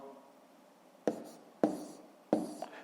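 Pen on paper writing numbers by hand during a fifth-grade subtraction exercise: three quick, distinct scratchy strokes separated by short pauses over a quiet room.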